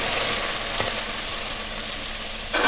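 Pointed gourd frying in a pan with spices and nut paste, a steady broadband sizzle that holds evenly throughout, with a couple of brief louder bursts.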